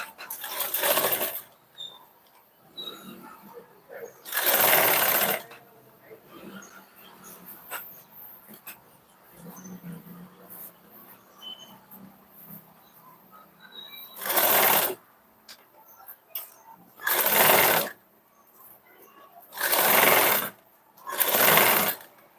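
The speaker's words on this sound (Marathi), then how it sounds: "इथं किनारीला शिलाई मारायला चालू करायचं" A sewing machine stitches along a blouse sleeve edge in about six loud, short runs of rapid mechanical whirring, with quiet gaps of fabric handling between them.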